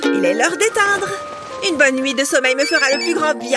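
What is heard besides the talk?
mobile phone ringtone ringing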